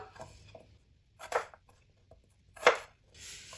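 Knife cutting vegetables (potatoes, carrots, cauliflower) for dhaba-style karahi aloo gobi in a home kitchen, with a few sharp chopping strokes spaced apart amid quiet handling noise.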